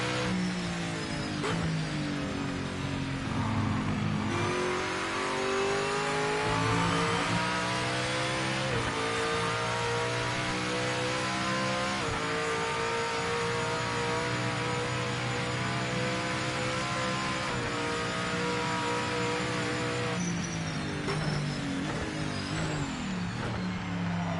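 A race car engine in the Gran Turismo video game, revving hard and continuously with pitch jumps as it downshifts, loud and steady throughout with no voices.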